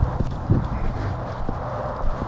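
Hooves of a wild mustang shifting and stepping on a lead rope, a few dull thuds at irregular intervals over steady outdoor background noise.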